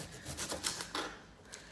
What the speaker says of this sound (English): Half an onion, I'm going to cut that.